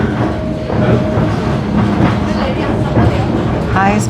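White Pass train near the summit in Skagway, Alaska, rumbling loudly and steadily on the rails with rhythmic clickety-clack from the wheels and a dense low roar, with a brief squeal near the end and a voice speaking beneath it.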